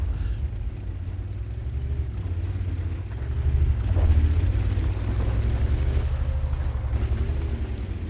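A tank cannon shot slams into the rear of an enemy tank in a tank battle video game, a deep booming impact midway over a continuous low engine rumble.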